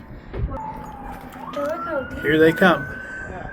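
Sirens from a couple of fire trucks and ambulances wail and rise in pitch from a distance on Gates Pass, Tucson, Arizona, growing louder as they approach, while someone speaks briefly.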